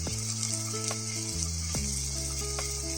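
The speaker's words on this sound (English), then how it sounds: "you lower the flame and add in paste of ginger and garlic" Ginger-garlic paste and powdered spices sizzle in a pan over a lowered flame for Guntur chicken biryani, giving a steady close hiss with a few faint clicks and no talk.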